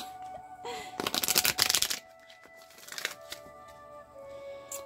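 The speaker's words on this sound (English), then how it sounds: "to do just another shuffle." Tarot cards riffle-shuffle in a quick crisp burst, followed by a shorter softer shuffle, with a faint hum in the background.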